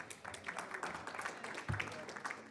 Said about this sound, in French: Merci d'applaudir Olivier.